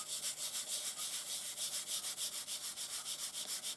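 A Rub-It Scrub-It craft tool is rubbed briskly over a surface in a steady back-and-forth rhythm, each stroke giving a close, dry scratchy hiss with no talking.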